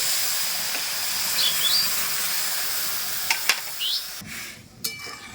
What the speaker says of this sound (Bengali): এরপর আমি এখানে পাঁচশোর মতো দুধ দিয়ে দেব